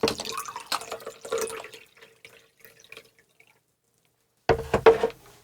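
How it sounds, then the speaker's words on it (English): Iced eucalyptus peppermint cold brew tea poured close up, with a liquid gurgle and drips at first, a near-silent stretch, then a sharp final burst of splashing, and no speech. "Lovely pour."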